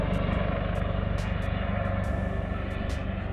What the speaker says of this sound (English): we've got a Airbus helicopter, a Juno HT1 from the Defence Helicopter Flying School